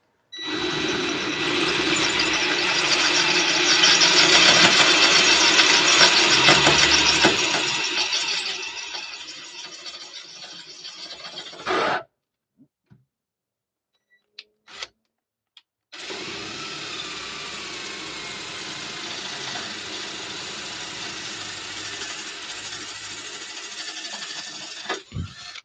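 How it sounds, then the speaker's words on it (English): A power drill run while working on a semi truck, a loud, steady whine for about twelve seconds, a pause with a few short bursts, then another long continuous run. "Okay, gonna drill. Watch your ears."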